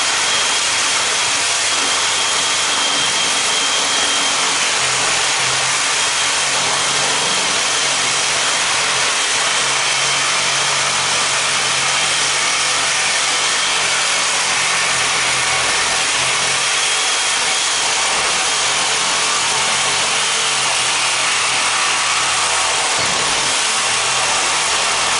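A fine-toothed saw blade cuts through the copper and aluminum coil of a scrapped AC unit's A-frame, a continuous loud, harsh grinding rasp that runs unbroken with no voices.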